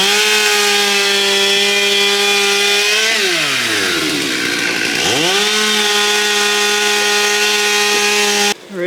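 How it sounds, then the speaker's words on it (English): A loud chainsaw cuts a fallen tree limb at a riverside campsite, running steadily up close, its pitch dipping as it bites into wood, then rising again before cutting off abruptly. "we need a big chainsaw, Molly."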